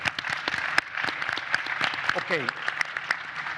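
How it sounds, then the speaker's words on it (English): An audience applauds at a panel dialogue event on inclusive growth in the Middle East, giving steady, moderately loud clapping throughout while a voice briefly speaks over it. "Round of applause."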